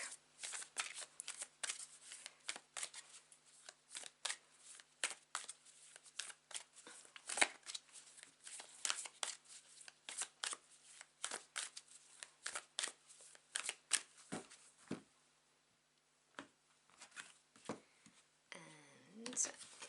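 Tarot cards being shuffled by hand in rapid riffling bursts, crisp and close, running steadily and then dropping away near the end, with soft handling sounds after.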